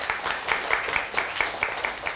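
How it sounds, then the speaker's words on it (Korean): Audience applause during a Korean televised lecture on buying a home, a short burst of clapping with a fairly regular rhythm of distinct claps, moderately loud with no talk over it. "박수 한번 쳐주세요"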